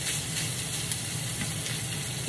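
Onions sautéing in a pan for a pizza topping give a steady, close, even sizzle with a soft crackle throughout and no talking.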